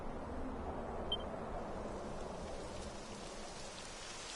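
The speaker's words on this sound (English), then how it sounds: "It would have to go and start raining, wouldn't it?" Steady rain falls in the Dragon Quest XI game world, a dense even hiss of drops filling the scene throughout with no voices.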